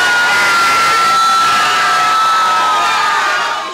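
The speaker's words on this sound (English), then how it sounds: "I need you to clap your hands and please don't be a hater." A loud crowd cheers and yells for a performer at Club Red in Chicago, a sustained roar of whoops and high shouts that stays intense throughout before easing slightly at the end.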